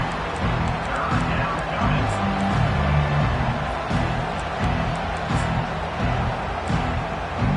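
A home stadium crowd in the college football game NCAA 25 roars steadily on a third down as the defense tries to get off the field, a continuous wash of noise under play-by-play commentary.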